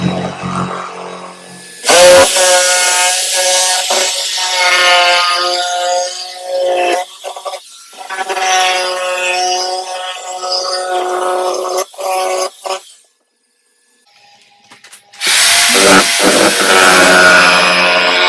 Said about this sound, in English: I will use that to cut the top open